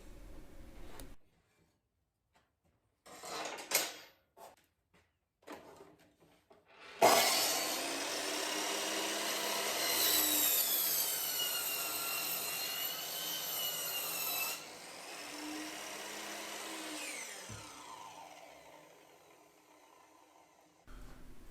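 Handsaw cutting through wooden 1x4 boards for a raised garden bed, a steady rasping stroke sound lasting several seconds, preceded by a few light knocks and handling noises, close and fairly loud.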